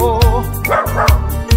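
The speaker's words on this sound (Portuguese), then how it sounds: "E o cachorrinho latindo" A small dog barks in quick yips and bow-wows over a loud Brazilian seresta song with steady beat, the barks sitting prominently in the music mix.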